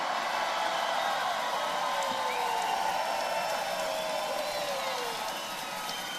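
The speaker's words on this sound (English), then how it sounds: "always gets one of the most incredible applause" A large crowd at a campaign rally in Tampa, Florida, claps and cheers in a sustained roar, with scattered whoops riding over it, loud and continuous before easing slightly at the end.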